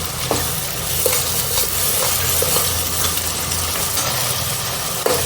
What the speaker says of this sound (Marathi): आता आपण याच्यामध्ये हिरव्या मिरचीचं लसूण आल्याचं वाटण टाकूया व्यवस्थित परतून घेऊ